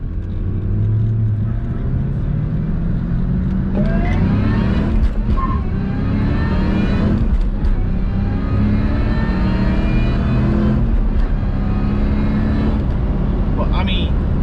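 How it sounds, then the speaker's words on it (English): Cabin road noise inside a 2004 Ford Mustang SVT Terminator Cobra while driving: a steady low engine drone and tire rumble with rising and falling revs, continuous and fairly loud, with occasional clicks and rattles. "And a little bit of road noise."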